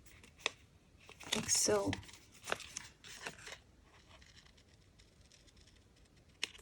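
Scissors snipping through the end of a paper envelope, a quick crinkly cut with a few light papery taps after, soft and close, heard alongside brief speech.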